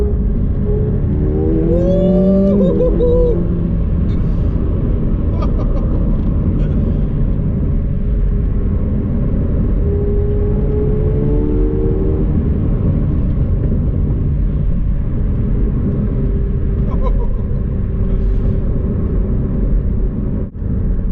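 A 2019 McLaren 720S engine pulls under light throttle in third gear, a steady loud rumble and whir with a rising tone early on and again near the middle, heard from inside the car throughout.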